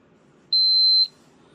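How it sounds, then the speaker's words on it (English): A single high electronic beep lasting about half a second from a blood glucose meter, clear and close over faint room hum. "And now once it beeps, it takes a few seconds."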